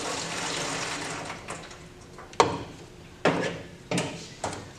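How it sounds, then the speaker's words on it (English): Used photographic fixer is poured from a film-processing tank into a storage bottle, a faint running liquid trickle with a few louder splashy gurgles and bumps near the end. "pour my used fixer into the used fixer bottle."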